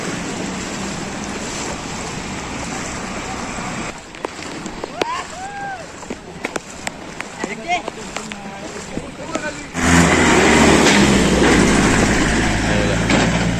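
Floodwater from the Narangi river after heavy rain rushes in a broad, loud roar with wind buffeting the microphone, easing briefly in the middle before surging louder again.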